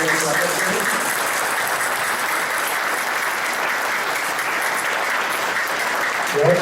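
Crowd at a meditation evening in Sirsa giving a guest a sustained, steady round of applause, dense and loud throughout with no break, a faint low voice surfacing only at the very end.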